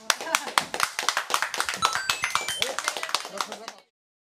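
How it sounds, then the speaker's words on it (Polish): Applause greets Lech and Leszek, a dense run of hand clapping lasting close to four seconds at fairly even loudness, then cutting off abruptly into silence. "No i Lech i Leszek dostali brawa"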